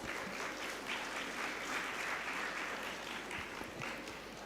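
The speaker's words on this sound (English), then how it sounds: "a huge round of applause" A crowd applauds steadily, a dense patter of clapping that holds at an even level throughout.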